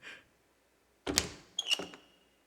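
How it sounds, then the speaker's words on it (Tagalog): A door is opened in a quiet indoor room during a Tagalog Christian skit, with a short faint sound first, then a solid clunk and a rattling creak of the door mechanism, heard close with no talking. "Buksan mo ang pinto."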